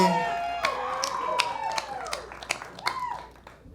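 A small comedy-show crowd greets a comedian with scattered claps and rising whoops and cheers, fairly near and moderately loud, fading out toward the end.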